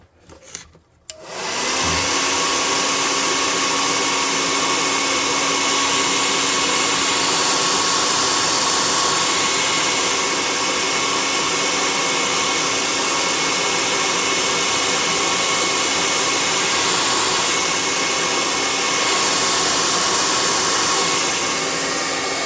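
A hair dryer switches on after a brief handling clatter and blows loudly and steadily close by, drying paint on a tabletop-game billboard model.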